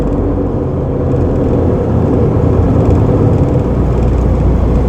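Inside a truck moving through traffic, a loud, steady low engine and road rumble fills the cab without a break, with no voices over it.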